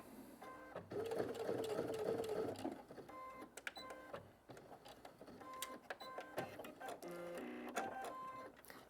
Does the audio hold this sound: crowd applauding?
no